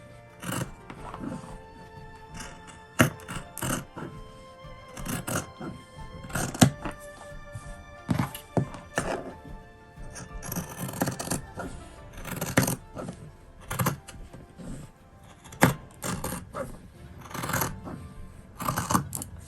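Scissors cut a scrap fabric piece apart along its center line, giving a series of close, irregular snipping and thudding crunches with short gaps between cuts.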